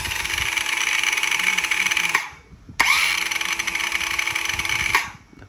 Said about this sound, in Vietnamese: Đặc trưng có máy của Panasonic nó im như thế này.